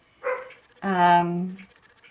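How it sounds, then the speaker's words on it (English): A pet dog indoors, anxious and wanting to come out, gives a short whine followed by a longer, louder drawn-out whimpering cry, close by and clear. "You can hear my dog. She's getting anxious."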